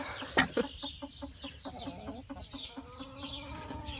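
A backyard homestead hen clucking close by in a series of short, rhythmic bawks with a few sharper squawks near the start, no talk over it.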